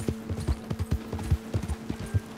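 A horse in the Red Dead Redemption 2 video game clip-clops at a steady walking rhythm, hooves thudding close and clear for a couple of seconds with a faint tonal hum beneath.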